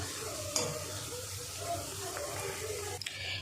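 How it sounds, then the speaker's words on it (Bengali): Kathi goja, a crisp stick-shaped sweet, frying in hot oil at medium heat, giving a steady close bubbling sizzle with a couple of brief clinks, with no talk. "দেখুন বন্ধুরা, কত সুন্দর ভাজা হচ্ছে"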